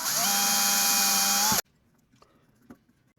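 A small 1.5mm bit drills into a guitar headstock for string-tree holes: a loud, high-pitched whine that runs steadily for about a second and a half, then cuts off abruptly, followed by faint handling clicks.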